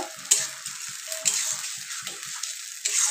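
A spice paste of ginger, garlic, tomato, cumin and coriander fries with prawns in a loud, close sizzle, broken by repeated scraping stirs and soft spatula taps.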